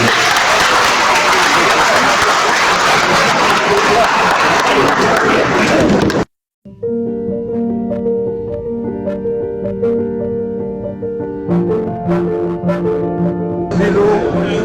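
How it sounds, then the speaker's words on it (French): A studio audience claps loudly at the end of a TV debate for about six seconds, then the applause cuts off abruptly. Music follows once the clapping stops. "sur vos applaudissements s'il vous plaît"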